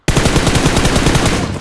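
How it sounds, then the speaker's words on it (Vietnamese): Dense, continuous automatic gunfire from three guns in a video game shooter, loud and close, rattling nonstop for over a second with no voices. "ba khẩu súng nó dồn đam, nó bắn về phía mình ạ"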